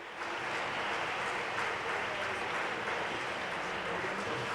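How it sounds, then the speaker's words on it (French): Audience applause for guests at a French-speaking gathering: a dense, even wash of many hands clapping, heard from a distance at low level, continuous with no clear breaks. "un grand applaudissement à nos amis"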